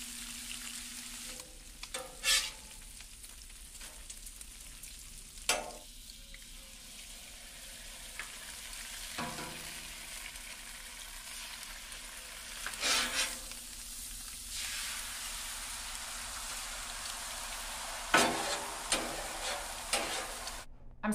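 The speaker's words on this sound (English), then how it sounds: "So we're just gonna put some bacon and eggs on the griddle and do breakfast for lunch." Bacon and eggs frying on an outdoor griddle, a continuous crackling sizzle throughout, steady and close, broken by occasional sharp clicks and scrapes of a spatula, with no talking.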